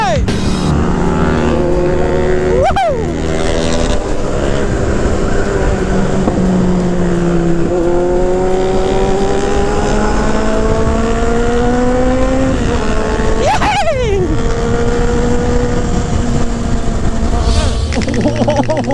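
More than ten big-bike motorcycles rev hard and pull away together, engines rising and falling in pitch through long gear pulls, loud, close and continuous for the whole stretch.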